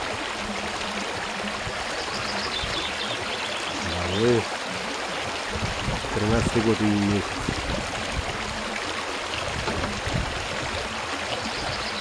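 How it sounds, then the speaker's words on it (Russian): A babbling spring brook running down from the hills at Bavly, where people collect water, trickling and gurgling steadily close by while people chat over it in short bursts. "возможность послушать журчание ручья."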